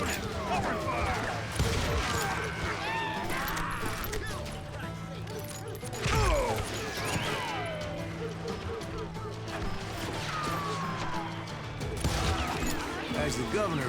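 Gunfire rattles in the western shooter game Call of Juarez, repeated shots and impacts amid a chaotic firefight, with shouted voices over the shooting.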